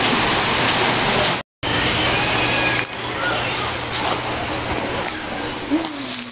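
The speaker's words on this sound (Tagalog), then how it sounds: "Kusog na po ang ulan." Heavy rain falls in a steady, dense hiss, loud and close and continuous apart from one brief cut. A voice speaks faintly under the downpour.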